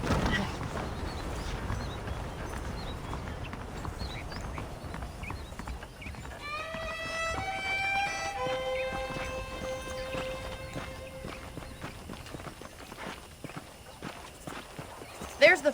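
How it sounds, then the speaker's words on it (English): Horse hooves clip-clop in the Western video game Red Dead Redemption, a steady walking rhythm under a man's spoken dialogue and swelling orchestral game music, with a brief whinny near the end. "The horses are saddled up over here."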